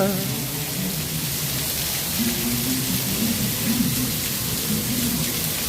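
Heavy rain pours steadily at Epcot, a dense, continuous hiss filling the scene, with muffled voices and a faint public announcement underneath.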